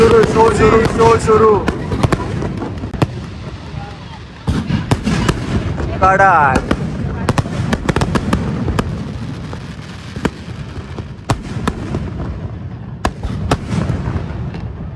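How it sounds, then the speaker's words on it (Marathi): Fireworks crackle and pop continuously at Shivaji Park, Dadar, with sharp bangs scattered throughout, while people talk and shout in the background. "ऍक्च्युली ते नॉर्मल फटाके होते"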